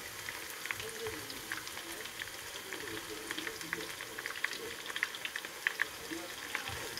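Vegetable fritters with carrot fry in a pan of oil over heat adjusted from high to low, giving a steady close crackling sizzle with scattered sharper pops throughout.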